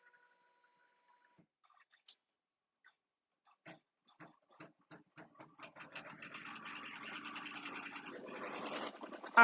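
An embroidery machine stitches a zipper pouch, starting with sparse single taps that speed into a rapid, regular mechanical chatter, quiet and close.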